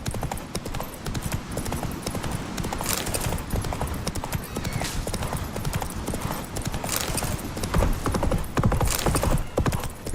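Geralt's horse Roach gallops in The Witcher 3, a fast, steady clatter of hooves close by, continuous and fairly loud throughout with faint ambient sound beneath.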